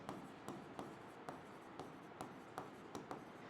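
Marker or chalk writing names on a board, a series of short scratchy strokes in an irregular rhythm, quiet and close with no talking.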